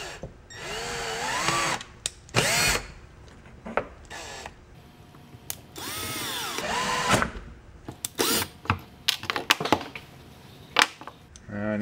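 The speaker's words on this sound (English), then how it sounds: "Making some pilot holes with a screw." A power drill driving a screw to make pilot holes for shelf supports in a workshop, in several whining bursts that rise in pitch as the motor spins up, separated by short pauses and handling clicks.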